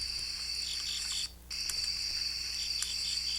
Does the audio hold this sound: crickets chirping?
yes